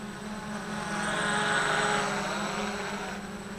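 A 3D X8 GPS telemetry drone flies overhead, its propeller buzz swelling as it passes closer and then easing off, steady and moderately faint.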